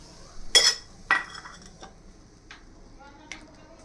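Methi paratha lifted off the gas griddle onto a dish, giving two sharp metallic clinks of utensil against plate followed by a few fainter taps and clatters, close by in a quiet kitchen.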